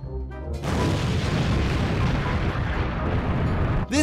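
A bomb from a flying machine weapon in Minecraft sets off a loud, rumbling explosion blast that begins after a brief moment and holds full for several seconds before cutting off abruptly.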